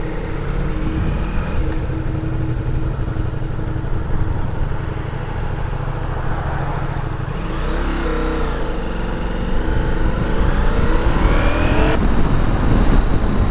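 A 2021 Ducati Multistrada V4 S V4 engine is revved while the motorcycle sits stationary: a loud, steady roar with a sharp rise in pitch midway, another blip near the end, and no voices.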